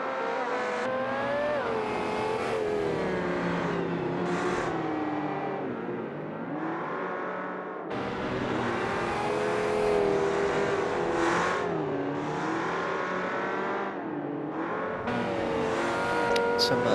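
GT race cars lapping the Bathurst circuit while warming their tyres, several engines roaring and revving together at close range, rising and falling continuously as the pack sweeps past, with no talk.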